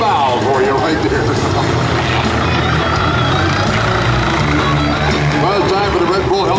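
The Red Bull helicopter hovers and bows at a 2011 NAS Patuxent River air show, its loud, continuous rotor and engine roar droning steadily up close with no pause.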